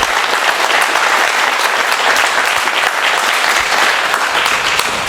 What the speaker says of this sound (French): Et je vous demande de les applaudir.